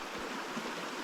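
A mountain creek rushes steadily in a valley in Kananaskis, Canada, a soft, even, broadband wash of flowing water near a footbridge, heard alone with no voices.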